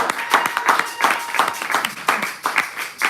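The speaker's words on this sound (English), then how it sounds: "our first evaluator deserves a round of applause" A Toastmasters meeting audience applauds the first evaluator, steady clapping from a room of people lasting several seconds, moderately loud with a voice or two faintly under it.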